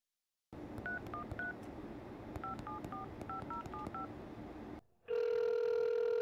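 A mobile phone dials out to call a mother back, a quick run of short keypad tones in two bursts, then a brief gap and a steady ringback tone, close and clear.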